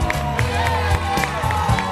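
Audience at a live show applauds and cheers, a dense wash of clapping with a few louder accents under a steady hum of crowd noise and music.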